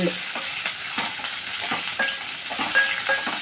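Garlic, cumin, coriander seeds, chana dal, green chillies and curry leaves fry in oil in a pan, giving a continuous close sizzle with quick, irregular stirring scrapes and a few faint high squeaks, with no voices.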